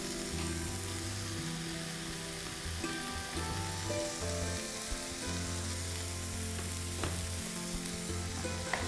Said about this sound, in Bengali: আমি ডিম দিয়ে দিচ্ছি এখন।